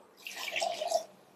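Water swished and poured in a pressure cooker to rinse out leftover ground masala paste in a home kitchen, a soft sloshing burst lasting under a second, quiet and with no talking.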